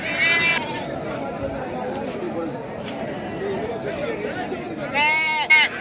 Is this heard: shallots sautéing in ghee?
no